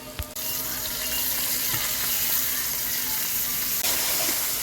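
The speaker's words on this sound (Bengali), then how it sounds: "এগুলোকে ভালো করে আমি লাল লাল করে ভেজে নেব" Ginger and garlic paste fries in hot oil over browned onions for chili chicken, giving a steady, close sizzle throughout with a brief clatter at the start.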